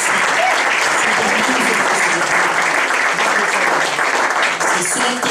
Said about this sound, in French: Et j'aimerais vraiment que nous puissions acclamer la mission évangélique Unité par la foi.